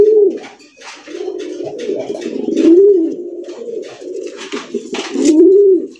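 Raj Gola pigeons coo repeatedly in close, loud, rolling phrases, several overlapping calls swelling and fading over a steady murmur of cooing, with no voices.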